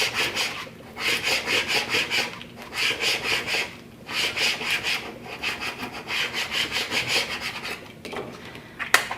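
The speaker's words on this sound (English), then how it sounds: "Let's burnish." Craft vinyl on a Cricut cup wrap is burnished by hand, giving repeated rhythmic rubbing strokes in short bursts, close and fairly loud, with brief pauses between sets.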